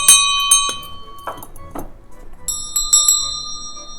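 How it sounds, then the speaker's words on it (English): Bells from thrift stores in a gothic-decorated room ring out in several close, clear strikes, their bright metallic tones hanging and overlapping as they fade between hits. "And these bells."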